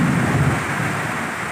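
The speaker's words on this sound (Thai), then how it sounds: "ที่ฟ้าก็ยังร้องอยู่เลยนะครับ" Deep, rolling rumble of thunder over a farm, steady and heavy, with a wash of rain in the background after a wind-driven storm, and no voices.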